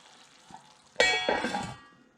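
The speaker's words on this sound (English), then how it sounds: "I'm going to give one quick stir" Quick stir of cabbage and pork in a boiling pot: a short burst of clattering and bubbling about halfway through, with utensil scrapes against the pot over a soft background.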